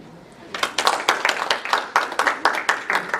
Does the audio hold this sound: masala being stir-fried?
no